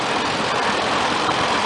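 An antique McCormick Farmall tractor engine idles steadily at an old iron club parade, a continuous rough rumble without break, close and fairly loud.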